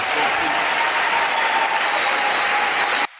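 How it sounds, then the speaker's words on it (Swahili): A church congregation clapping hard at a service, dense sustained applause filling the room for about three seconds before cutting off abruptly. "Tuongeze makofi mengi kwa ajili ya"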